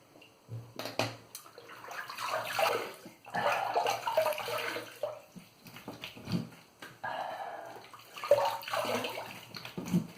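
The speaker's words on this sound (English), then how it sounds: "Let's rinse up and see how it went." Water splashes as the face is rinsed after a wet shave with a brush and shaving soap. Irregular, close splashing bursts come and go for several seconds, and no one speaks.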